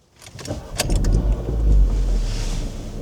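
A Volkswagen Polo GTI engine fires up with a brief starter whir and then a loud, sustained idle rumble heard from inside the cabin, holding steady for a few seconds with no talking.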